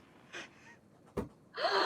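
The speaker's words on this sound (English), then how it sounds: "I lean over and gasp" A single sharp, close gasp from one person, a quick intake of breath, followed by a brief rustle and then a louder breathy exhale.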